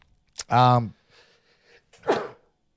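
A single sharp, close sneeze with a quick breath before it, followed by a brief murmur and a short spoken reply.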